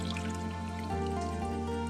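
Pizza dump casserole sauce, shaken up in a jar, is poured into a casserole dish. A soft, continuous trickle runs for a couple of seconds and stays fairly faint.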